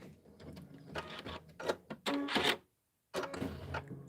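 An embroidery machine stitches a tack-down line for a felt kite tail in quick, uneven rattling runs, with a brief silent pause before stitching resumes.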